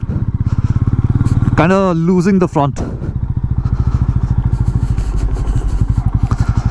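A Royal Enfield Meteor 350 ridden slowly off-road on dirt, its engine thumping in a steady, close, low beat, with someone talking briefly over it.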